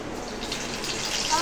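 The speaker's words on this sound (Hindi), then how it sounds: "और फिर उसके बाद ये कॉर्न्स मैं इसमें डालना स्टार्ट करूंगी।" Corn kernels poured into hot oil over a medium-low flame give off a steady, faint hissing sizzle that holds evenly throughout, close by.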